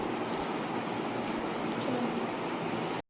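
Train pulling into a station: a steady, broadband rumble and rush of rail noise fills the whole stretch at even loudness, ending abruptly.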